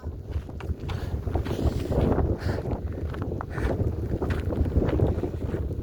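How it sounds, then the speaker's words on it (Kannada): Cool wind blows across a hillside on the Kumara Parvatha trek, a steady, gusting rumble buffeting the microphone throughout with no voices. "ಗಾಳಿ, ತಂಪಾದ ಗಾಳಿ ಬೀಸ್ತಾ ಇದೆ"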